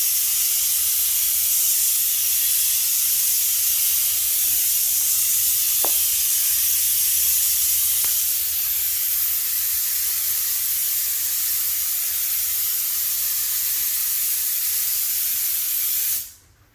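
Steady, loud hissing spray runs unbroken for over fifteen seconds, with a couple of faint clicks partway through, then cuts off abruptly.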